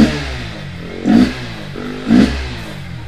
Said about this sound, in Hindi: अब जो साउंड जो है गाड़ी का वो चेंज हो चुका है